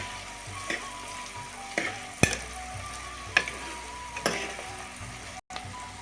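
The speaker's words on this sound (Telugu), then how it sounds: "ఇలా కలుపుకొని ఇంకా లిడ్ తీసేసి కాసేపు ఇలానే వేగనివ్వండి." Bitter gourd pieces fry in an uncovered pan with a soft, continuous sizzle. A spoon scrapes and stirs them in a few sharp, spaced strokes, and there is no talking.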